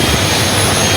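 Loud, steady roar of a jet engine heard from a seat at the rear of an airliner cabin, a constant broadband drone without breaks or speech.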